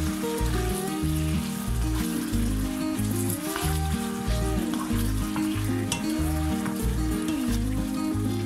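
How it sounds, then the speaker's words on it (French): Chicken pieces are stirred with sugar in a pan while braising, giving a constant loud sizzle and crackle of frying with scraping stirs, set against steady background music, with no talk. "Remuez jusqu'à ce que le sucre couvre les morceaux."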